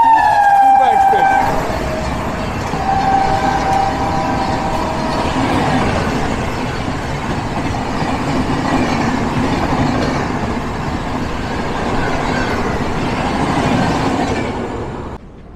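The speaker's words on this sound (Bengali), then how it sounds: "দেখুন চলে এসছে পূর্বা এক্সপ্রেস। ক্রস করছে" Purba Express 12382 passenger train passing close by, a loud continuous roar and rattle of wheels on rails lasting many seconds, opening with a high horn blast and fading at the end.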